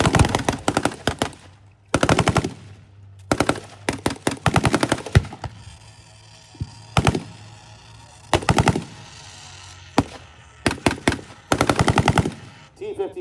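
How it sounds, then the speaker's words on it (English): DShK heavy machine gun firing during a tank battle reenactment, several sharp bursts of rapid shots with quiet gaps between, loud and fairly near. "You heard the dishka go off."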